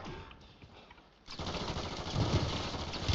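Striker 9 submachine gun in Warzone firing fast automatic bursts, a quiet patter at first, then a dense, loud, sustained rattle of gunfire over game ambience.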